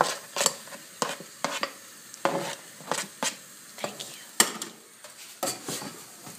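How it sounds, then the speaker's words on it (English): Peppers being stirred in a pan for spaghetti bolognese, a run of rhythmic scraping and clattering strokes of a utensil against the pan over a faint sizzle, close and without talking. "And all the peppers are in the pan, and they're moving around, and they're getting really soft."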